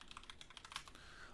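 Rapid typing on a computer keyboard, a quick run of light clicking keystrokes heard alone and fairly quiet, with no talk.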